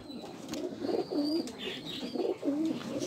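Domestic pigeons cooing close by, a few soft, low, rolling coos repeating in a loose rhythm, with faint chirps in the background.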